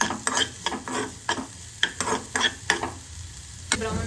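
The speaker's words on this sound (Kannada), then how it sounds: "ಸೊ ಇವಾಗ ಆನಿಯನ್ ಕಟ್ ಮಾಡ್ಕೊಂಡಿದ್ವಲ್ಲ ಅದನ್ನ ಹಾಕೋತಾ ಇದೀವಿ. ಆನಿಯನ್ ಸ್ವಲ್ಪ ಬ್ರೌನಿಶ್ ಆಗೋವರೆಗೂ" Chopped onion frying in a pan for white sauce pasta, a steady sizzle under repeated sharp scrapes and clacks of a spoon stirring, close and fairly loud, no talking.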